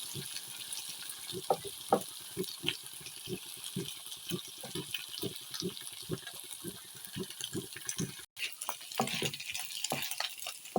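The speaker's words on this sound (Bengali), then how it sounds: "চিংড়ি মাছের শুটকিগুলোকে খুব ভালো করে ভেজে নিব।" Dried shrimp fry in oil for a crunchy chanachur-style balachao, giving a steady close crackle with frequent sharp pops and stirring scrapes throughout, with no talk.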